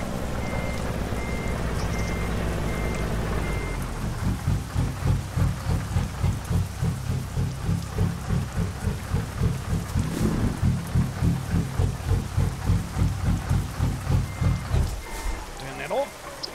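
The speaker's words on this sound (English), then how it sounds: "Bit of rain, the roads will be slippery" Rain and rumbling thunder in a truck driving video game, heard under a steady engine drone and a long run of rhythmic pulsing, with a voice talking over parts of it.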